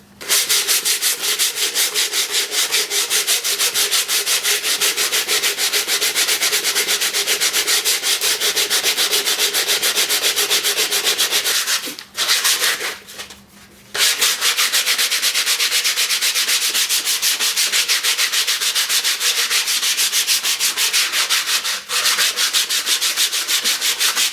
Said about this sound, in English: Now that gets the sanding done.